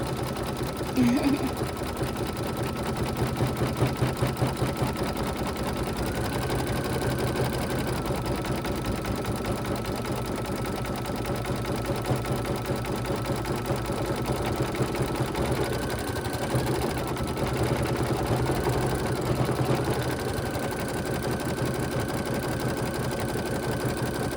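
A home embroidery machine stitches a SpongeBob design onto a towel, its steady rapid needle chatter running continuously and close by, with a faint tonal whine rising at moments and no talk.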